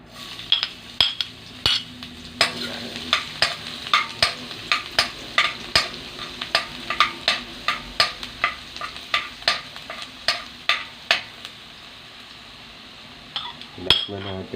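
Garlic sautés in a pan with a soft sizzle beneath repeated sharp clinks and scrapes of a utensil stirring against the metal, close and rhythmic, with a brief pause near the end.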